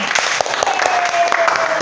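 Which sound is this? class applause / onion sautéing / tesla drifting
class applause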